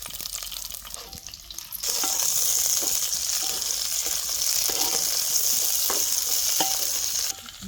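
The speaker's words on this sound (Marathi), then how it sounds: "तेलात मिरच्या जरा उलट्या पालट्या करून घ्यायच्या" Green chillies sizzle loudly in hot oil with cumin and garlic in a home kitchen pan; after a quieter start, a steady bright crackling hiss takes over, broken by soft scrapes and clinks of stirring.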